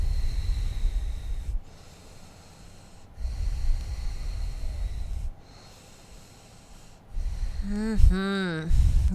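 Slow, deep breathing during a beginner yoga practice, with long audible inhales and exhales alternating in a steady rhythm, close to the microphone, ending with a brief voiced sound.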